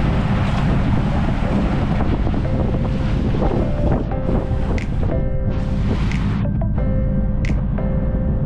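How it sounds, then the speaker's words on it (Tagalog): Strong wind buffeting the microphone during a sea trial of a bangka outrigger boat heading toward Fortune Island, a loud steady roar with constant rumble and gusts, no talking. "Mahangin to."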